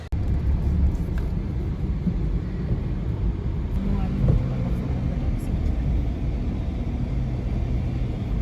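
Heavy street traffic jam at Bell Chowk in Dehradun, a continuous low rumble of idling and crawling vehicles close by, with wind buffeting the microphone and a voice talking over it.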